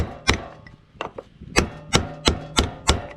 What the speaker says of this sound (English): You just gotta get your little snap ring off here.